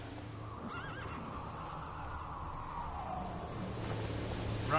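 A horse in The Witcher 3: Wild Hunt whinnies loudly near the start and keeps galloping, hooves drumming steadily under the call with no talking.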